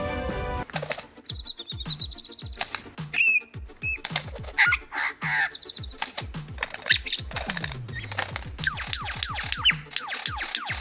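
A lyrebird sings a varied stream of mimicked sounds, including camera, water-splash and airplane imitations: rapid clicks and mechanical ticks, whistles, chirps and rattling bursts, loud and close with no talk.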